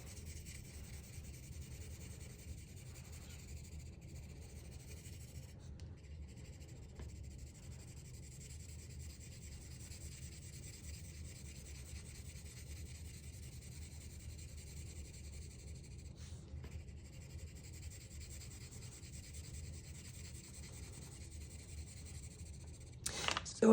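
A pencil shades evenly on paper in a grayscale exercise, a faint, steady, close scratchy rub that continues without break for over twenty seconds.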